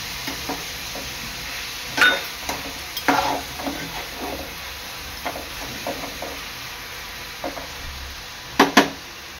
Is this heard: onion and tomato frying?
yes